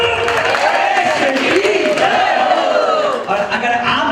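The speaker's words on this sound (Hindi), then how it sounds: "जैसे इन 5 लोगों के नाम पे तालियां बजी है" A devotional bhajan gathering of a Shri Shyam sankirtan group in Shahad, Kalyan, where the audience breaks into loud, sustained clapping and cheering for five people's names, a dense crowd roar that continues steadily throughout.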